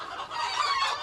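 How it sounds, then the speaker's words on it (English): A rooster crows nearby, a bright, strained call lasting about a second with no talking. "you literally can't hear your own thoughts with all these roosters"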